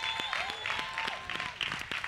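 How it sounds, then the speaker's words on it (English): A crowd at an evangelism healing campaign in Queenstown, South Africa, claps along with music, with sustained clapping and rhythmic hand hits blended with a tonal musical backdrop and some voices. "Keep clapping your hands."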